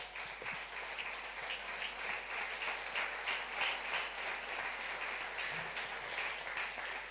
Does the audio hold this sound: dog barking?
no